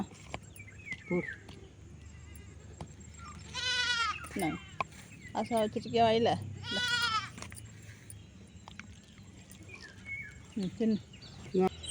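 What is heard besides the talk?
goats bleating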